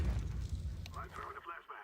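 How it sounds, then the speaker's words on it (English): A flashbang grenade goes off in Counter-Strike 2, a short low boom at the start that quickly fades, followed by a voice talking over the fading rumble. "Throwing a flashbang."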